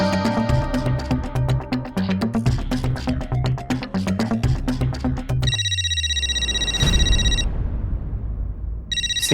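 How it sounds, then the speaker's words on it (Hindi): In a Taarak Mehta Ka Ooltah Chashmah comedy scene, music plays first, then a telephone rings on a secret number: a loud, insistent electronic ringtone with repeated bursts that fills the second half. "सीक्रेट नंबर पर फोन,"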